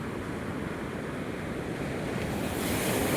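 Sea waves wash in at Madhavpur beach, a steady broad roar of surf with wind buffeting the microphone, growing slightly louder toward the end.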